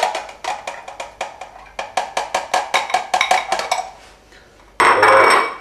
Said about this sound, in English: Mix the rest of the sauce.